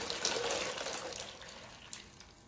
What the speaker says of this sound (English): you pour your tea in